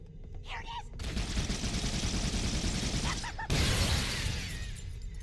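Gunfire in Halo rattles loudly as a continuous automatic burst, stops abruptly, then resumes in a second harsh volley, with brief game voices heard faintly in between.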